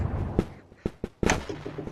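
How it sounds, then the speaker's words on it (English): Airstrike explosions go off in the video game Animal Company as several sharp, close booms in quick succession, with rumbling tails between the blasts. "Airstrike!"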